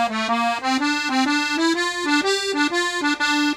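Close-miked 72 bass accordion playing a longer Irish reel phrase, its rich reedy notes pulsing in quick regular steps and climbing gradually in pitch, with no one speaking over the music.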